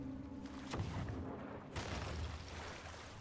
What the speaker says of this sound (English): a cannon just shot and hit our boat